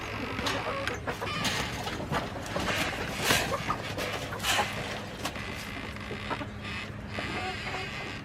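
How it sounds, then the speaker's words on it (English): Yard chickens cluck in a steady, busy chorus close by outdoors in the cold, with scattered sharper calls and rustling over a continuous low background. "let me go tend to my chickens."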